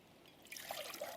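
Clean water trickles into an Optimus Crux Weekend HE cook pot, a short, close, faint pour that swells into a bright splashing stream before easing off, with no talk.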